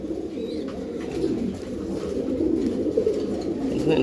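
A pair of Giribaz pigeons, an old-line bird from Mugda, coo in a continuous low, throaty murmur that stays close and steady throughout.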